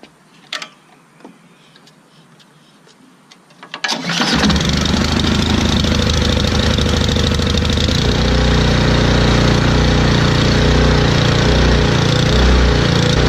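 A snowblower engine being prepared for storage cranks over and fires up about four seconds in, then runs steadily and loudly close by at a constant idle-like drone for the rest of the time, with no talking.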